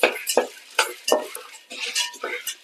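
Repeated scraping and clattering of a spoon stirring peanuts dry-roasting in a metal pan, in quick irregular strokes, close by.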